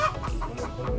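A chicken clucks close by in a series of short, loud, repeated clucks, with no talking over it.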